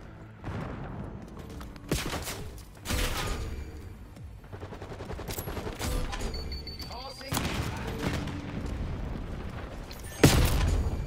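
Shotgun fire during a Black Ops 6 Hardpoint match, several sharp loud blasts and bursts of gunfire spread across a busy firefight, mixed with heavy ambient battle noise and some talk.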